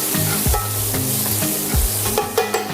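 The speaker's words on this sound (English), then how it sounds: "Behind that, following with garlic. Some fresh garlic. Saute that down." Fresh garlic sautéing in a pan for Caribbean island stewed fish, a steady close sizzle broken by scraping and stirring of a utensil against the pan.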